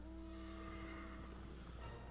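A horse mount in the video game Final Fantasy XIV: Heavensward neighs over a steady bed of game music and ambience, with no one talking.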